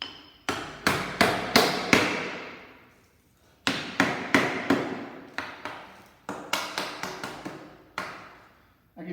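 Wedges hammered into place under a deck with a piece of plywood, struck in three bursts of rapid, ringing blows with short pauses between them, loud and close, with no talking.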